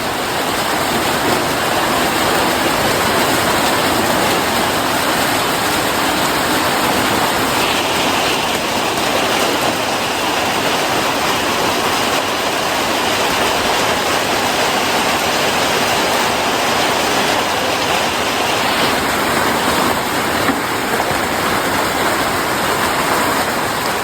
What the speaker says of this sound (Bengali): আর এই যে চলে আসলো বৃষ্টি